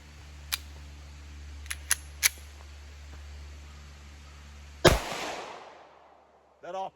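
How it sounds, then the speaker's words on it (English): A Sig P365 X-Macro pistol fires a single sharp, loud shot after a few small clicks of handling, with a ringing tail that decays over a second before a brief voice is heard. "First shots time."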